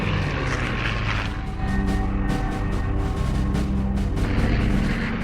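A Republic P-47 Thunderbolt fighter plane drones loudly with a rough, throbbing engine roar, holding steady and pulsing slightly as it passes.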